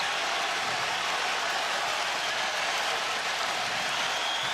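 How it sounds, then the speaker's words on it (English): A sold-out college basketball arena crowd at San Diego State, Utah State visiting, cheers and rises to its feet, a steady loud roar of voices and applause filling the whole stretch without letup. "this sold-out crowd rising to its feet"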